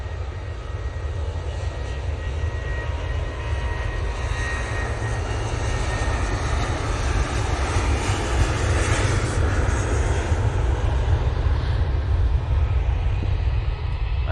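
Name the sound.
Boeing 737 jet in .com livery taking off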